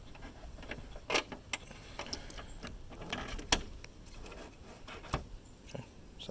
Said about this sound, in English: And now I can get my bolt out.